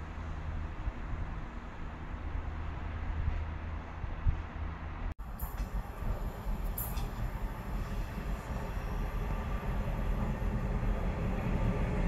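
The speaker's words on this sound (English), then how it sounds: "142067, Northern Rail leaving Scunthorpe going to Sheffield." Northern Rail Class 142 Pacer unit 142067 pulling out of Scunthorpe station toward Sheffield, a steady loud rumble of engine and wheels with brief high squeals, building as it moves off.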